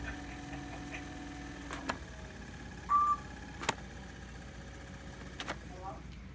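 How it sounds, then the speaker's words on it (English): A faint motor hums at a steady pitch, then steps to new tones a couple of times as it shifts speeds, with a few light clicks. "you can hear the motor running"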